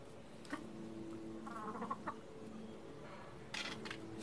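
A small flock of chickens, a rooster with six hens, cluck softly in a short, quiet burst, with a few louder squawks standing out from a low background hum.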